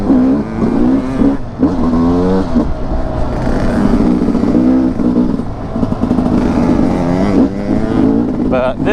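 Sherco 300 SE Factory Edition enduro motorcycle engine running steadily at low, lugging revs with a deep four-stroke-like thrum, loud and continuous throughout, with a brief rev rise near the end.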